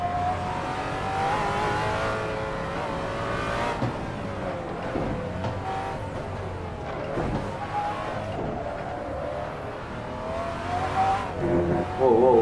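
Koenigsegg One hypercar of nearly 1200 horsepower howling around the Nürburgring Nordschleife in Assetto Corsa, its engine droning steadily and rising through the gears with brief lifts, a continuous loud mechanical roar throughout.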